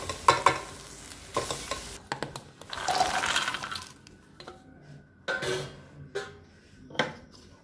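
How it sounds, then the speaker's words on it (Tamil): Onion, chilli, garlic and tamarind sautéed in a pan for a South Indian chutney, with intermittent stirring scrapes and soft sizzling, clinks of a utensil against the pan in bursts with quiet gaps, close by and without talk. "புளி சிறிதளவு சேர்த்து வதக்கிக்கிறேன்"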